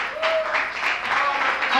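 Audience at a blues band concert applauds, a steady, fairly loud wash of clapping with cheering voices mixed in, continuing without a break.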